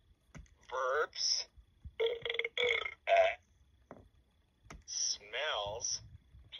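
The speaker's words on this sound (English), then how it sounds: "Burps." A cartoonish burp from a LeapFrog Tag Reader children's toy: several short, punchy bursts, some with a wobbling pitch, separated by brief silences and heard alone, close and fairly quiet.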